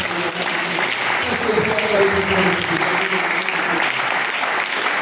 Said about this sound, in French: Est-ce que vous pouvez acclamer très fort le Seigneur?